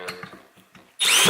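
A Milwaukee M12 FUEL impact driver set to its drill bit setting bursts into a loud, close, whirring drive of a screw into wood after a brief quiet pause with faint talk.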